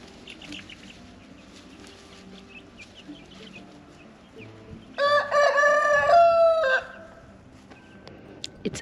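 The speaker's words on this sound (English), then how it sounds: "The rooster wants to challenge you." A rooster crows loudly and close by for about two seconds amid a flock of chickens, with soft clucks and scattered chirps before and after.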